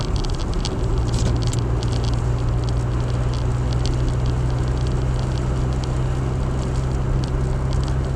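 Rain patters steadily on a car, a constant dense crackle over a low hum that fills the whole stretch without pause.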